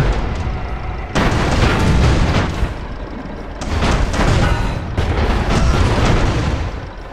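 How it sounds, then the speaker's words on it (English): Repeated heavy bomb explosions from an airship bombing run in the video game Airships: Conquer the Skies, loud booming blasts in three long overlapping bursts with a rumbling tail, no talking. "can we bring us in a little closer and drop some bombs?"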